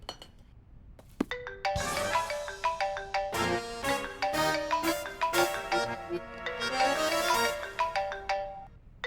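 Mobile phone ringtone playing a bright, chiming melody, loud and continuous, repeating its tune with no voices over it.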